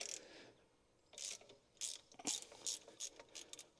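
A ratchet wrench loosening the alternator belt on a 1959 Chevy Biscayne: a series of quick close clicking bursts with short pauses between strokes, fairly faint and with no talk.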